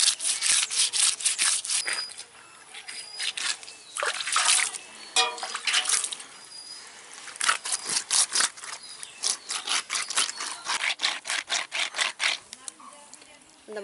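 Catla fish scraped back and forth on a rough stone to clean it, giving rapid rasping strokes in steady bursts with short pauses, close and fairly loud, alone without talk.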